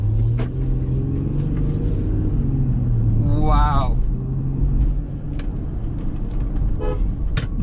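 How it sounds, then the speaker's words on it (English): Audi Q7 SUV with a 3-liter V6 TDI diesel engine driving on the road, a steady loud engine and road rumble throughout, with a brief horn toot midway and a voice exclaiming over it. "Alright guys, driving the Audi Q7."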